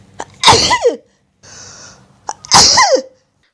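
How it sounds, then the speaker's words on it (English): Two loud, close sneezes, each a sharp intake and then an explosive burst, separated by a short pause with a faint hiss between them. "They sneezed without hankies"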